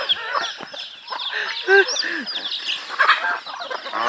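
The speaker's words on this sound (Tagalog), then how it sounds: "Ito yung gansa oh." Geese call among farmyard fowl, honking and clucking in short overlapping bursts at close range, with people talking in the background.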